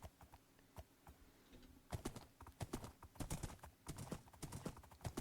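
Minecraft horses clip-clop with hooves tapping in quick irregular clusters, quiet at first and then busier and louder from partway through, with no speech over them.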